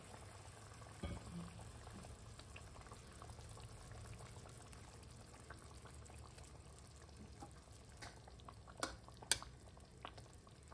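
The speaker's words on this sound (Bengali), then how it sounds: "দইটা ফুটছে" A yogurt curry for Doi Katla (fish in yogurt) boils in a pan with a steady, soft bubbling that stays faint and close, broken by a few sharp clicks near the end.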